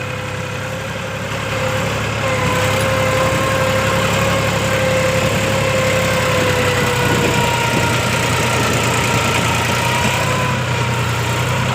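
A tractor engine runs during GPS-guided land levelling in a field, a loud, close, continuous drone that holds steady throughout with no pauses or talking.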